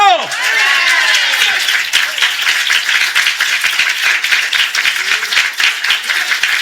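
Church congregation at a Sunday morning worship service applauding together, a dense, steady wash of many hands clapping close by, sustained for several seconds with a voice trailing off at the start.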